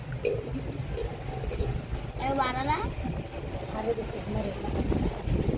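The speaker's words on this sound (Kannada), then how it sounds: "ಗಾಳಿ ಎಂತ ಗಾಳಿ ಬಿಟ್ಟೈತಿ" Strong wind buffets the microphone in a steady low roar, with a person talking over it throughout.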